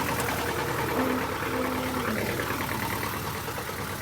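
A Zetor tractor engine with a tiller attached runs at a steady, droning rumble, loud and continuous with a slight knocking throb, heard alone.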